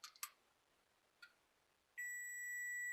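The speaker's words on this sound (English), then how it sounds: "That's just the multimeter telling me that use me or let me go." A multimeter on a bench with a Longwei 30 volt 10 amp power supply gives two quick chirps, then another short one, then a steady continuous beep tone. All are quiet and close.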